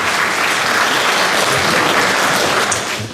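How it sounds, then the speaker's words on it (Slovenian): A hall full of people claps loudly and steadily for the chairman at the annual general meeting of the Domžale diabetics' society, sustained applause that eases slightly at the end. "Še en aplavz za predsednika."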